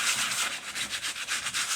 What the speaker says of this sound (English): the next step is I have a really piece of rough sandpaper